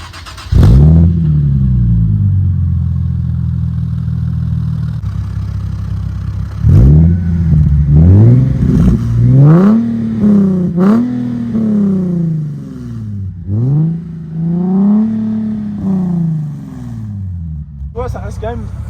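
Nissan 370Z with a full straight-pipe exhaust, loud and close, holding a rough idle, then blipped in repeated sharp revs that rise and fall, with people talking over it.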